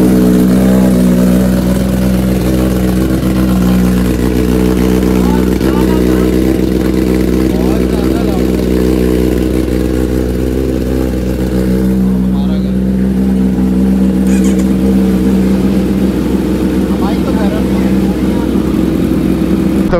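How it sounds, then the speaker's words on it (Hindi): Motorcycle with a full-system race exhaust, cold-started and held running: a loud, close, steady throbbing drone that continues for the whole stretch with only slight swells in revs. "तो अभी बहुत ही ज़्यादा भयंकर कोल्ड स्टार्ट होगा।"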